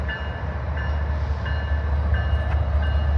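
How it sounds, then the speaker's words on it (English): A container cargo train rumbles by steadily with a low, heavy roar and faint rhythmic clanking, continuous and fairly close. "Okay, we got a train coming through over here."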